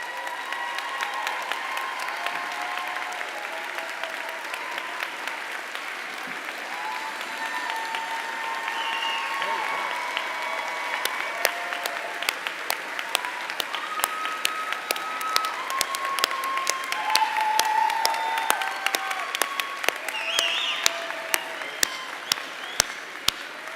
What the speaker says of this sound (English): We honor you and applaud you.